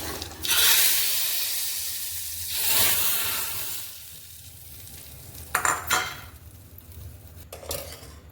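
Cumin seeds and a pinch of asafoetida tempering in hot oil are tipped into bottle gourd and drumstick soup, giving bursts of loud hissing sizzle between clinks of a metal pan and spoon, with no talking.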